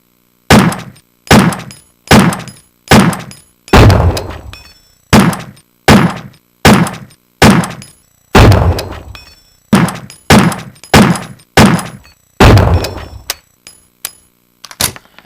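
Beretta handgun fired in Resident Evil 1, about fifteen loud, sharp shots spaced roughly one second apart, each with a short decaying echo and no talking.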